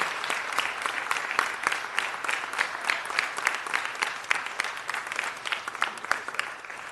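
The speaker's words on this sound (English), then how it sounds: "another round of applause" Audience applause fills a city council meeting chamber, a steady patter of many hands clapping at moderate distance for the full stretch, with no talking over it.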